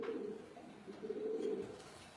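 Race pigeons cooing in a loft in Taiwan, soft repeated throaty coos close by with a few overlapping calls.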